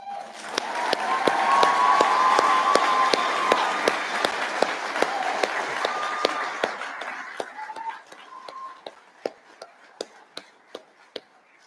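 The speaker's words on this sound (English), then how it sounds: "How about one more round of applause?" Audience applauding at a Mississippi State Fire Academy firefighter graduation, a swell of dense clapping that fades into scattered individual claps, with a brief faint cheer over it.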